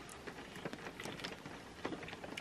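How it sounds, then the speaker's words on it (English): Rain pouring outdoors on the last day of school, a faint, continuous patter of drops with scattered brighter splashes and no talking. "Oh man, rain's pouring"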